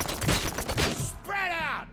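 Gunfire in RoboCop: Rogue City bursts out as a quick cluster of loud, close shots and impacts, followed by a voice shouting in pain or anger.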